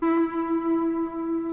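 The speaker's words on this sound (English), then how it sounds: "a sound like this, like a very kind of weird pluck" A weird, steady synth pluck from FL Studio sounds alone as a single buzzy, harmonically rich tone with faint ticks at the top, holding at moderate level for under two seconds.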